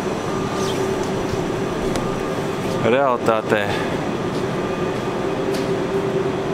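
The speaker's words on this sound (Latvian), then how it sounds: "Divstāvīgs vilciens zem zemes." A double-decker underground train in Paris rumbles and hums steadily, with a brief whining squeal midway, while people talk nearby.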